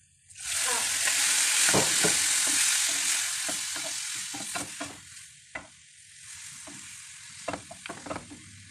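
Shrimp dropped into a hot pan with garlic bursts into loud, close sizzling, then settles into softer frying with scattered pops and stirring clinks; a voice is faintly present.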